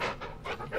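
A dog pants rapidly in the Blair Witch video game, three or four quick breathy huffs in under a second, soft and close, with no talking over it.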